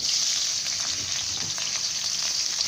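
Garlic and naem, Thai fermented pork sausage, stir-fry for fried rice in a loud, steady, close sizzle with faint scraping of the spatula throughout and no talking.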